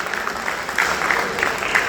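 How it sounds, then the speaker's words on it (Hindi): An audience of university students at a student organisation address claps in a short burst of applause, moderately loud and continuous, with a faint voice underneath. "इसलिए एक बार आप अपनी तालियों से स्वागत पंजाब विश्वविद्यालय के प्रत्येक छात्रों के प्रति करिए।"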